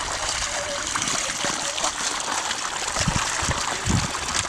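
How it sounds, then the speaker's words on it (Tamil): Water runs and splashes continuously in a kitchen as cooked rice is drained, a dense, close trickling gush with small splatters and no pauses. "சாப்பாடு வடிக்க தண்ணி"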